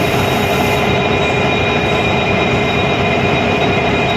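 A train sits at the main platform of Puttur station in Karnataka as its engine is uncoupled from the rear, a loud steady rumbling drone with a bright high hum throughout.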